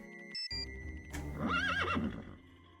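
A horse whinny used as a message alert sound in a video game rings out loud and close over a short tonal chime and low rumble, rising and falling once before fading.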